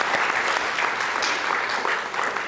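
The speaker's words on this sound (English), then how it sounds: "So let's give them a round of applause." An audience at a law school panel gives the panelists a round of applause, a dense, even patter of many hands clapping continuously at moderate loudness.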